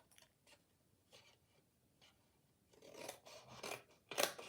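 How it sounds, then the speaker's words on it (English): Scissors snipping paper during a papercraft project, faint at first, then a quick run of crisp, close cuts growing louder toward the end, with no talking. "I'm going to just snip off a little bit more."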